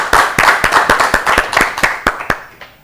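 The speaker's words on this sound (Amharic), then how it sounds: "አጨብጭቡላት በደንብ አድርጋችሁ" Audience applause at an Ethiopian children's TV quiz competition held for Easter: about a dozen sharp, loud hand claps in a quick, uneven rhythm that thin out and fade near the end.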